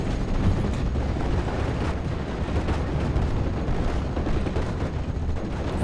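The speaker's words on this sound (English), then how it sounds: "My tank got destroyed." A tank in a war video game is destroyed amid continuous heavy explosions and artillery booms, a dense, loud barrage rumbling without pause.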